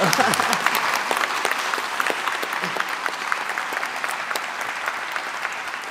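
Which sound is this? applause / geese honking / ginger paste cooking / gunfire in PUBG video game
applause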